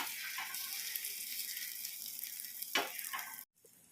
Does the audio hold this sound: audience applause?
no